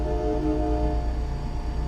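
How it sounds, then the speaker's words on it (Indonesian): A Freightliner Cascadia truck's air horn in American Truck Simulator, a loud, sustained, chord-like train-style blast that holds steadily throughout with a deep rumbling undertone and no talk. "Ini ini air horn-nya ya."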